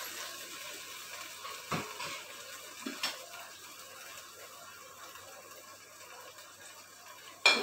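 Chettinad-style chicken curry stirred in a pan, with a soft steady sizzle and scraping from a spoon against the metal, a couple of sharper clinks, and one louder knock at the end.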